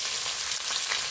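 Finely chopped onion fries in oil with a brief, steady, fairly quiet hiss of sizzling and nothing else over it.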